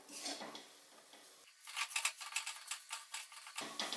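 Spoon scraping and clattering in a pan as okra is stirred together with roasted besan and spices, a run of close, uneven metallic knocks and scrapes with no talking.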